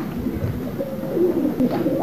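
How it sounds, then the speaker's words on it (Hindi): Pigeons being let out of their coop, soft cooing and low murmuring bird calls close by against a constant background hum, with no talking. "शबीर भाई कबूतर खोल रहे हैं।"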